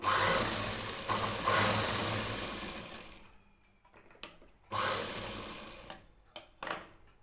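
A sewing machine runs in a steady loud whir while joining a blouse strip, stops for a moment, then starts again in short bursts with clicks between them.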